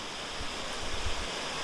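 Steady broadband rush of a waterfall in an autumn woodland setting, a constant even roar heard at moderate distance with no voices.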